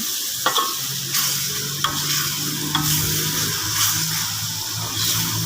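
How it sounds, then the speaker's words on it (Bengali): Spice masala being stir-fried in oil with scraping strokes and a loud, close sizzle. A spatula scrapes at irregular intervals, with no talking. "এই যে মশলা কষানো হয়ে গেছে তেল যেহেতু উপরে ভাসে উঠছে"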